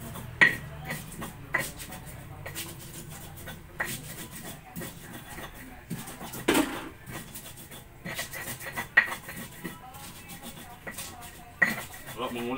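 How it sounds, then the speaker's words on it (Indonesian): Spices for Balinese plecing paste are ground by hand in an ulekan mortar and pestle, giving irregular clacks and knocks with scraping, grinding rubs between them, close and fairly quiet. "karena dengan kekuatan mengulek bumbunya akan campur dengan bagus."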